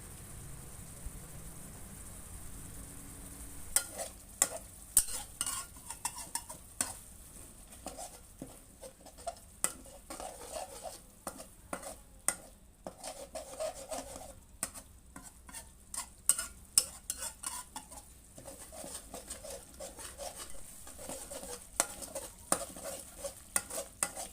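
Busy sizzling as green curry paste fries in a pan with repeated stirring scrapes and clinks, steady crackle throughout, no voices.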